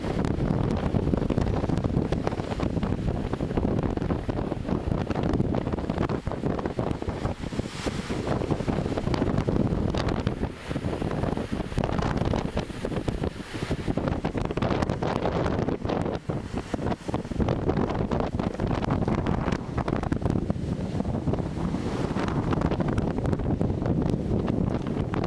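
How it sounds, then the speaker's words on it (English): Strong wind buffets the microphone at Volcanoes National Park on a warm, sunny afternoon, a steady, loud roar of gusts that goes on for the whole stretch with no one speaking. "Very windy."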